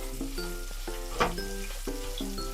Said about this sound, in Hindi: गाजर को भूनेंगे करीब आधा मिनट।